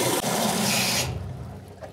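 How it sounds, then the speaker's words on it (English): Warm water gushes into the emptied paint sprayer reservoir after its parts have been cleaned, a close, steady pouring rush for about a second that then fades to a quieter trickle. "you can fill that up with warm water"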